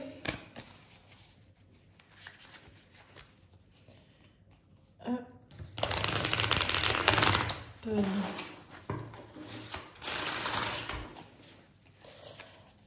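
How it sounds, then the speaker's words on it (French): Tarot cards are shuffled by hand in a few bursts of rapid riffling and soft flapping, close up, between quieter pauses. "je mélange bien les cartes pour commencer"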